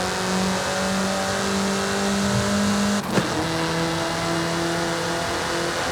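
Car accelerating in the racing game Forza Horizon 5, a loud sustained engine drone with steady tonal whine that briefly breaks with a shift midway, then continues at a constant level.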